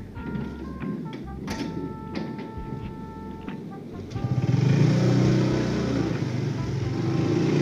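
A Kawasaki ZX25R sport bike engine, first a few sharp clicks and tones over low idle, then a throaty inline-four rumble swelling up and holding, fairly close by.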